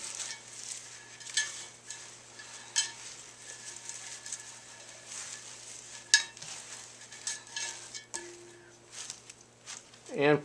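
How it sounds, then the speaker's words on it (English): Shredded cabbage is mixed by hand with salt for sauerkraut, making soft, irregular rustling and crunching in quiet bursts, with an occasional utensil or bowl knock. "Okay, and Lilioza will mix that all together."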